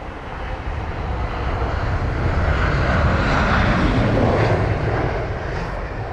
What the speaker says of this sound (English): it's the Finnair A320-200 with the reg Oscar Hotel Lima X-Ray Lima or OH-LXL from Malaga